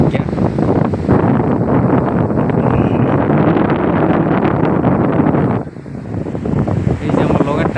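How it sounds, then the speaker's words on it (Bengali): Strong wind blowing across the sea off Goa, a loud buffeting roar with breaking waves beneath, dipping briefly before surging back. "বাতাস, পুরা বাতাস দিচ্ছে, পানি ঢেউ দেখুন"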